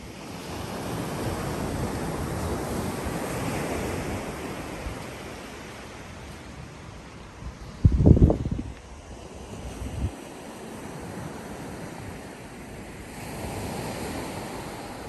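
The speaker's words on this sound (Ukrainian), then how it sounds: "один із величезних плюсів життя на острові це море, якого тут дуже-дуже багато" Sea waves wash in steadily with wind buffeting the microphone on the coast near Edinburgh, Scotland, and a brief louder gust or thump breaks in midway, with no talk.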